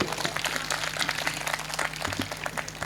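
An audience at a Hindi comedy poetry gathering gives a poet a burst of dense clapping, steady and moderately close, lasting the whole short stretch.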